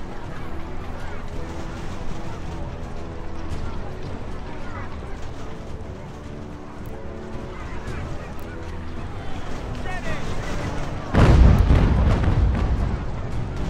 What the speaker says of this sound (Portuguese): O canhão tá arregaçando aqui, não tá sobrando nada dos caras.